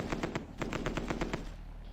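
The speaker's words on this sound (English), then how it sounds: "I can hear some fighters being shot down" Rapid bursts of machine-gun fire from fighter planes being shot down in the strategy game Supreme Ruler Ultimate, an evenly pulsing rattle at moderate distance over a low background rumble, tapering off near the end.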